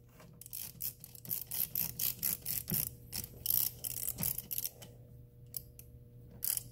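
Tightening the battery terminal on a 2010 Dodge Grand Caravan, a quick run of close ratcheting clicks in short bursts with brief pauses, quiet and without speech.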